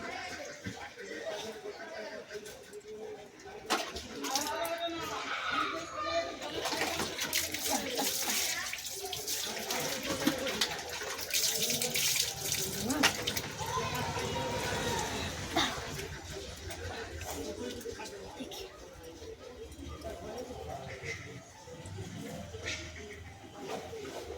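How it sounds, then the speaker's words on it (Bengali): Water splashes and pours over animals to cool them in hot weather, a running, gushing wash that rises and falls, under steady chatter and a voice. "আমি তো গায়ে জল দিয়ে দেবো তারা ঠান্ডা লাগবে"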